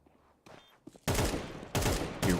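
AK rifle fire in the video game Counter-Strike during a professional esports match: loud, dense bursts of automatic gunfire that start suddenly after a few quiet clicks and keep going in heavy volleys.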